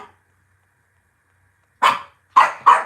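Dogs bark indoors near a house door, three sharp, loud barks close by after a near-silent pause, the last two in quick succession.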